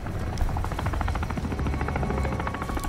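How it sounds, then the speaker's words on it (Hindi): A helicopter in the Call of Duty Modern Warfare II video game holds a steady rotor drone with a faint rhythmic chop, moderately loud and continuous with no talk over it. "ये अपना हेलीकॉप्टर है शायद से"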